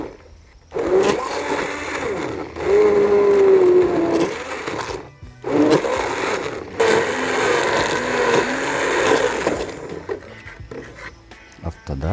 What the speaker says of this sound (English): So I have the blender here with me.